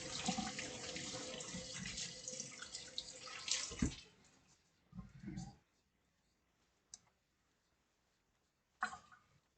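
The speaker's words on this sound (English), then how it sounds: "We wash the hands with soap before. And water." Hands being washed with soap under a running tap at a kitchen sink before cooking, with steady water flow for about four seconds, followed by a few short splashes and clicks.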